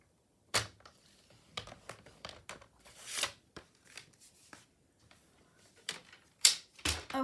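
Scoring a paper card base makes a series of short, close scraping and tapping strokes, irregular and fairly quiet, with brief silences between the strokes and a few sharper clicks.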